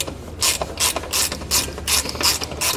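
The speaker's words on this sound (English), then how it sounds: "Then we're gonna take a T27 star bit, and we're gonna remove, you're gonna have one bolt here and one on the opposite side." Ratchet wrench with a T27 star bit backing out bolts while fitting a Bulldog powersports ATV winch, with loud, close rapid clicking in about six quick bursts.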